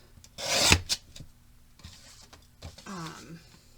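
Paper recipe card dividers trimmed by hand, giving short rasping cuts and rustles in close bursts, a loud slice early, then quieter scrapes and handling; no speech.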